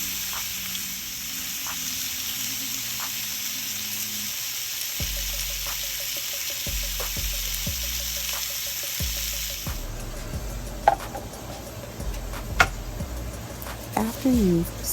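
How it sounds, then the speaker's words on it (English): Pork tenderloin sears in a little oil in a pan, a steady close hiss and crackle running throughout, with occasional clinks and scrapes from moving the meat. "sear it in a pan with a little oil. Sear it on all sides."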